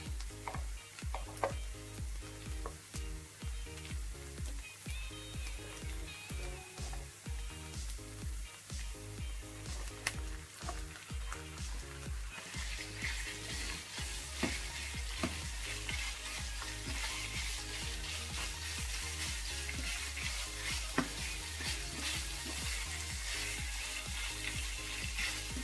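Ground meat sizzling and frying in a pan with sautéed garlic and onion for tacos, a steady dense crackle throughout with occasional stirring, close and continuous, no talking.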